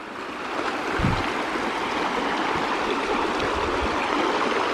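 A river stream flows steadily after a flood in Valay, Azdavay, Kastamonu, its broad, even rushing close and constant, with one brief low thump near the start.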